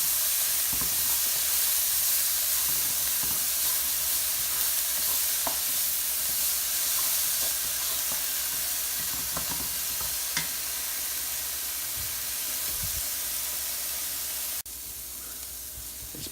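Onions with a pinch of salt sizzle steadily in a hot pan, a continuous close frying hiss broken by occasional scraping stirs and light taps of the utensil.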